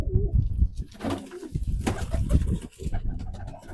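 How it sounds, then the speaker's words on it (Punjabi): Slender-bodied pigeons coo close by in a continuous low, throaty burble, with several birds overlapping throughout. "ਇਹ ਪਤਲੇ ਪਤਲੇ ਸਰੀਰ ਦੇ ਕਬੂਤਰ ਆ"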